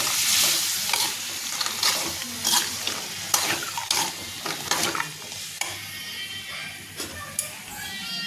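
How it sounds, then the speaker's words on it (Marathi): A chickpea and potato mixture is stirred in a pan with a spoon, making repeated scraping and gentle sizzling strokes in an uneven rhythm, close and moderately quiet. "तर आता हे मिक्स करून घेते"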